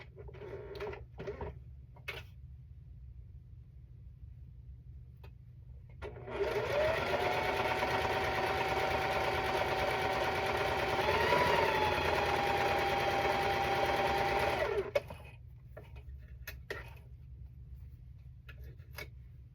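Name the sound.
sewing machine stitching quilt strips, quarter-inch seam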